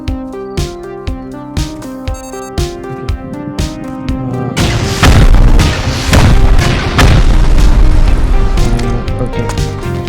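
Explosions go off during a raid in the video game Rust, a heavy booming roar that swells after a few sharp rhythmic thuds and keeps rumbling loudly for several seconds.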